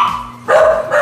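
Dogs barking at an animal clinic that specialises in breeding and whelping puppies, two short bursts of barking with a pause between, fairly close and moderately loud.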